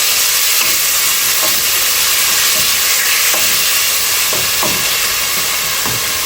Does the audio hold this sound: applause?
no